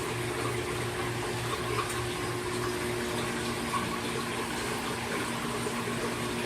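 Water runs and splashes steadily into a sump tank of a 200-gallon saltwater reef aquarium beneath a constant mechanical hum, with no break in the sound from start to finish.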